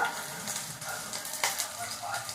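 Green chillies fry in a pan with a steady, fine crackling sizzle, a close hiss broken by a few sharper pops, with no talking.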